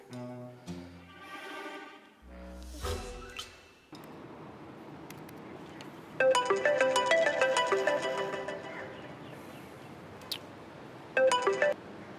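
A telephone ringtone plays a melodic tone pattern, then a bright, rapidly pulsing ring sounds for several seconds, stops, and returns briefly, fairly loud and with no talking over it.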